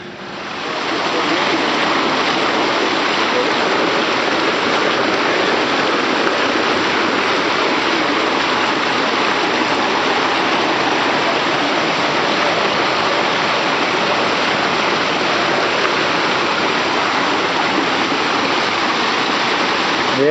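Effluent water pours out in an electrocoagulation treatment plant, a loud, constant rushing splash like a small waterfall that holds steady throughout with no pauses.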